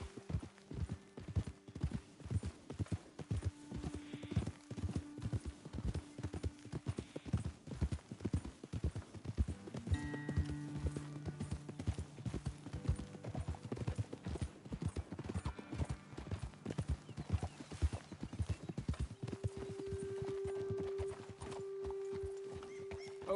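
Horses clip-clop steadily at a walk through the Red Dead Redemption video game world, hooves thudding in a continuous close rhythm over a layered game score with sustained tones, and a brief whinny surfaces partway through.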